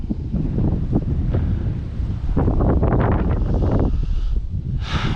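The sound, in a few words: strong wind at a fishing pier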